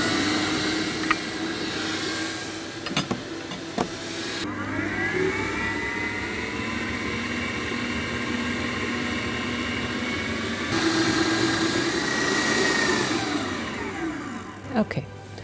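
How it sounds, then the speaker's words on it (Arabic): A stand mixer kneads brioche dough in a steady, continuous motor whir that hums with shifting pitch throughout, with a few soft knocks and someone speaking faintly over it. "ودلوقتي هبتدي اعجن دول مع بعض"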